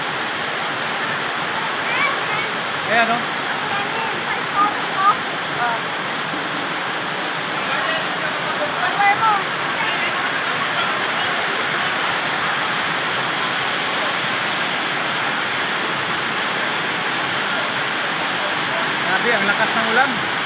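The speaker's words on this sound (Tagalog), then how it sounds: "grabe, ang lakas ng ulan" Dense, steady downpour roaring continuously throughout, with a voice speaking briefly over the rush of water, heavy rain beating down at a house where a tarpaulin support has snapped.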